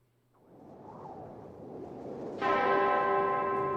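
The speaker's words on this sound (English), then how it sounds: "The bell on the clock tower echoed solemnly." A clock tower bell in a visual novel game strikes once, deep and resonant, with a long humming decay after a rising whoosh of ambience.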